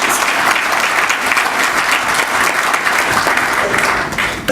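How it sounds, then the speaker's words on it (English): A large audience at a Pakistan-Afghanistan trade and investment forum applauds two finance ministers, with dense, steady clapping filling the room and no break. "let us give them a round of applause"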